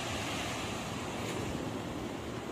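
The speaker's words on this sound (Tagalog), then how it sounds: "Medyo nalaki yung alon, kaya medyo hirap sila." Rough ocean waves wash steadily at sea around a small fishing boat, a loud continuous surging rush mixed with wind buffeting the microphone, with no talking.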